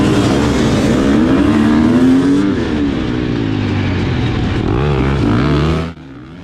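A 2018 KTM 250 XC-W, a carbureted two-stroke dirt bike, revs loudly up close with a rising, wavering engine pitch that holds steady, then cuts off abruptly near the end.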